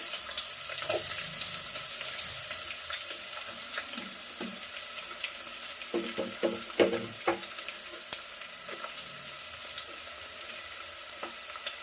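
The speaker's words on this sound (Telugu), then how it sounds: "10 సెకండ్స్ నూనెలో ఇలా రోస్ట్ కావాలన్నమాట ఆనియన్." Onions roasting in hot oil with whole masala spices for a biryani, a steady broadband sizzle throughout with scattered stirring clicks and scrapes, close and moderately loud, no talking.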